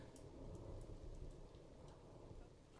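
Steady, dense video game rain in Planet Zoo hisses with scattered droplet ticks and a low rumble underneath, continuous and fairly quiet, no voices.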